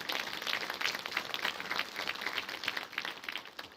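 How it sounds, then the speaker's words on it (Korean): Applause from the audience at a Honam memorial ceremony for democracy martyrs and victims, after the martyrs' parents are introduced. Dense, steady clapping with a fairly even level runs throughout, heard from a moderate distance with no talk over it. "힘찬 박수 부탁드리겠습니다."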